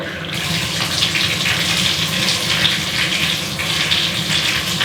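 Water runs steadily from a plumbing fitting under test, a continuous close hiss and spatter like an open tap that holds its level for the whole stretch with no talking.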